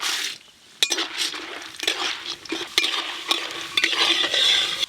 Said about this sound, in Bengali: এবার আমি চীনাবাদাম আর ছোলার ডাল দিয়ে দেব